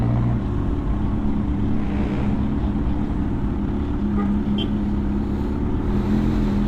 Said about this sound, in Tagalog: Traffic dyan, highway yan.